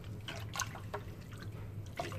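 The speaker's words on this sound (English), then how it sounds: "So I'm going to pop this in the water" A greasy vent hood screen is dropped into water, giving brief splashing and dripping sounds close by with a low hum underneath.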